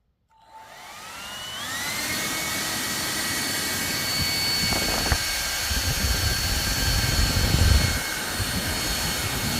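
A Xiaomi H500 hair dryer with its nozzle attached whirs up from silence into a loud, steady blowing roar with a high whine that rises as the motor spins up, then holds for several seconds with no talk.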